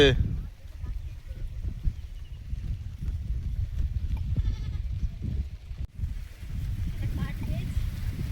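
A goat bleats at a rural home, its calls mixed with nearby people talking and soft outdoor bumps and shuffles.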